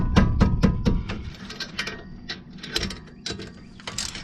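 A ratchet wrench working on the bottom brake caliper bolt of a 2012 Hyundai Tucson during a front brake job, giving a burst of rapid, close clicking at first, then scattered sharper metallic clicks and clanks.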